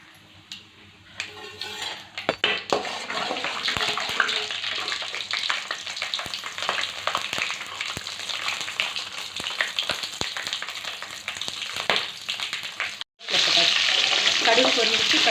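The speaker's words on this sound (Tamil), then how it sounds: "கடுகு பொரிஞ்சிச்சு" Mustard seeds and urad dal spluttering in hot sesame oil for a village-style puliyodharai, a loud dense crackle and sizzle close by with faint utensil clinks, briefly cutting out near the end before resuming.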